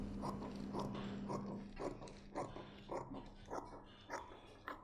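Scissors cut modeling fabric along a pattern for a flounce skirt, producing a run of close, evenly spaced crisp snips over a faint steady hum.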